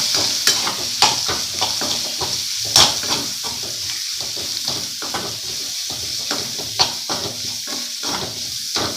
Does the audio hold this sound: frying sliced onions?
yes